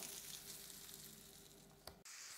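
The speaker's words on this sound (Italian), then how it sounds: "friggirò dei fittini di pollo" Chicken strips frying in a pan, a steady bright sizzle up close, with a brief clink near the end before the sizzling resumes.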